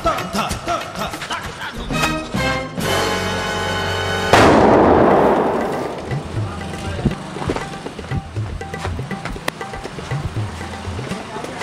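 Diwali firecrackers go off in a village, a rapid crackling burst followed by a loud booming blast that rumbles and fades, with scattered pops and people talking around it.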